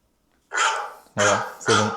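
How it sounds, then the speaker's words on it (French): A dog gives three sharp, close barks, one after another, the first after a moment of silence and the last two in quick succession. "il y a l'aboiement"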